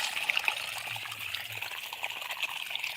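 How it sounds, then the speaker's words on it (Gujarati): Water runs from a pump motor in a village field, a steady close pouring and trickling stream that continues without a break. "મોટર નું પાણી આવે"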